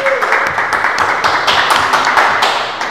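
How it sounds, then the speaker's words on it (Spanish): A church congregation claps in applause during a bilingual Spanish and English service, steady scattered clapping from many hands sustained throughout, moderately loud, with voices faintly mixed in. "Entonces se merecen un aplauso."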